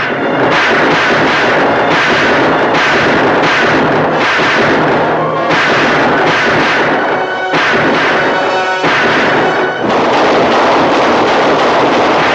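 Repeated loud gunfire in a 1951 western film, dense rapid bursts with crashing booms that fill the whole stretch without pause.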